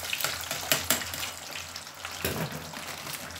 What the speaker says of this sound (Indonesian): ini saya mau goreng kentang karena ini pelengkap burger ya